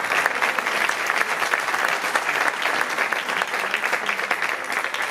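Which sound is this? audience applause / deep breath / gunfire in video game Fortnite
audience applause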